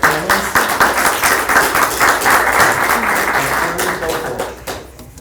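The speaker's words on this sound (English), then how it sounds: "let's give a round of applause in advance to our panelists" Loud, dense applause from a room full of people welcoming panelists at a higher education talk, a continuous wash of many hands that holds steady before tapering off at the close.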